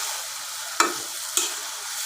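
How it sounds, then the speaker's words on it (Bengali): Broth poured into a pan of rohu fish and potato curry that is already sizzling, a steady hiss broken by two sharp splashing bursts, close and fairly loud, with no talking. "একটু ঝোলটা দিয়ে দিলাম।"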